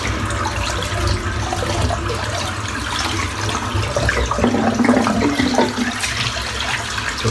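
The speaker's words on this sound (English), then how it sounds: "Let's get the water emptied out so it's fully heated." Water drains steadily out of a bathroom sink after a head shave, a continuous gurgling rush at close range with no speech, holding a fairly even level throughout.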